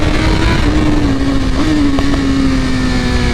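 A BMW S1000RR sport motorcycle with flash ECU tuning drones loudly and steadily up close, holding a sustained high engine note with slight pitch shifts.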